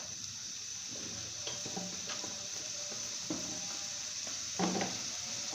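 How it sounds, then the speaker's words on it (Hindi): Onions fry and brown in a pan, a steady soft sizzle with occasional stirring clinks and scrapes, close but faint, with no talk. "पहले हम इसको करेंगे प्याज को ब्राउन"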